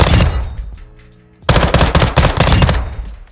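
Weapon fire in Call of Duty DMZ with a loud burst of rapid shots, a brief pause, then another sustained string of tapped shots close up.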